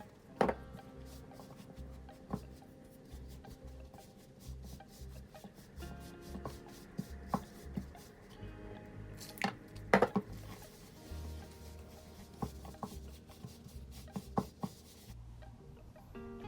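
Choux dough for cherry varenyky stirred in a bowl, soft rubbing and scraping strokes with scattered sharper knocks of the utensil, close and fairly quiet, no talk.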